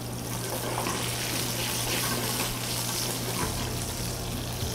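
Shishito peppers searing in hot oil in a home kitchen, a dense, steady sizzle that stays loud and close throughout with no pauses.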